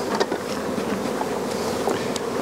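Honey bees buzz around an open beehive in April, with no supers fitted yet, as a steady close swarm drone holds throughout the short stretch.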